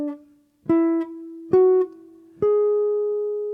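Four clean guitar notes climb a melodic minor scale one at a time, each plucked tone sustaining before the next, the final note left to ring.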